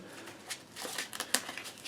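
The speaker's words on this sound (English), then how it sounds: "So we're gonna shuffle up." Playing cards shuffled for a One Piece card game match, a run of quick riffling and soft card snaps at close range, with one sharp slap near the middle.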